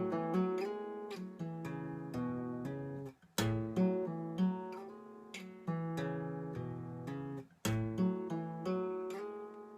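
Guitar playing a riff, with hammer-ons and pull-offs on the 5th and 6th strings, a repeating phrase of plucked notes played three times, clear and close.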